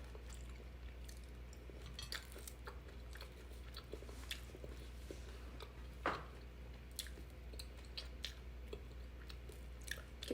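A person eating country-style fried chicken alone, with soft close chewing and biting sounds, quiet and steady over a low constant hum, one sharper crunch near the middle.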